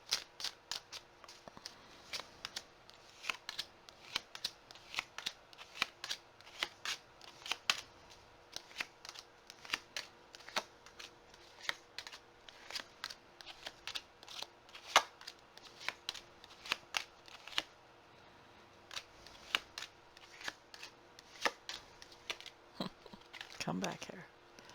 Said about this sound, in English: Just reshuffling the deck and getting ready to